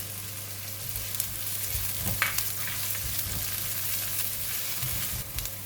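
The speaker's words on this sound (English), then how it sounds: "continue to stir fry until the onions and chili become slightly soft" Onions and green chili stir-frying in a pan for okra with dhal, giving a low steady sizzle with occasional scraping stirs and light clinks, close and fairly quiet.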